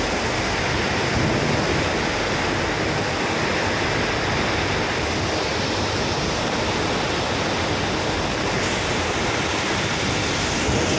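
Animal feed pours out of a truck trailer during unloading in Germany, making a steady, dense rushing hiss that continues unbroken and fairly loud, with no voices.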